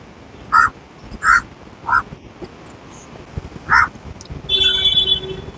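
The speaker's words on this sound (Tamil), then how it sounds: "எங்க வீட்டு காக்கா ஸ்விம்மிங் பூல்" Crows caw at a backyard water bath: four separate harsh calls spaced about a second apart stand out clearly. Later a thinner, higher bird chirp joins in over a steady outdoor hum.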